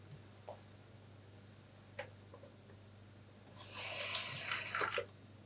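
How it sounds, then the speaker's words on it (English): Tap water runs briefly into a small container holding ballast glue mixture for a model railway track, a short splashing stream after a few faint clicks in a quiet room. "And to that I'm going to add a little bit of water."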